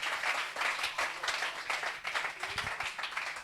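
A congregation claps in thanks to God during a church communion service, a dense rhythmic applause sustained throughout, fairly close and steady with no talking.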